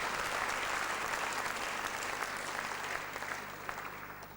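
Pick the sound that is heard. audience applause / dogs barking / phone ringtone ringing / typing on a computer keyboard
audience applause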